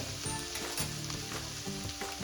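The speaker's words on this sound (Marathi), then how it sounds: "आता अगदी मसाला व्यवस्थित असा भाजून घ्यायचा आहे." Masala roasting in a pan for dry matki bhaji, a continuous close crackling sizzle with rhythmic scraping stirs and a low steady hum underneath, no speech.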